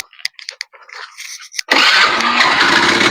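A motorcycle engine sputters through a few uneven attempts, then catches and settles into a loud, steady idle that runs to the end.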